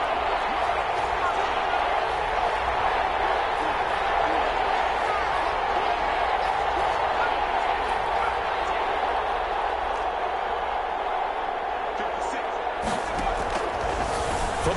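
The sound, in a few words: stadium crowd cheering in a football video game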